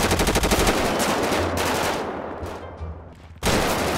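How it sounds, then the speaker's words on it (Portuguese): Rapid automatic gunfire in a GTA 5 roleplay shootout, loud dense bursts of shots that briefly thin out and then return at full strength, with no speech over it. "Outro tomando tiro, não sei da onde."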